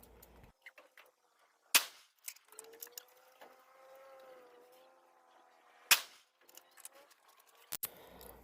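Two or three sharp, isolated rifle shots from a Winchester Model 70 Featherweight chambered in .270 Win, fired at targets, separated by quieter stretches with a faint wavering tone and scattered small clicks in between.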